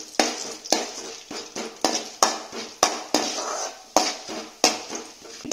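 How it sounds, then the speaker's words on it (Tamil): Chana dal and urad dal tossed in hot oil in a pan for a spicy chutney: a regular series of sharp metallic clanks from a spoon against the pan, about two per second, each followed by a short decay over a faint sizzle. "இப்ப வந்து நம்ம எடுத்து வச்சிருக்க கடலப்பருப்பு உளுந்து பருப்பு சேர்த்திக்கலாங்க"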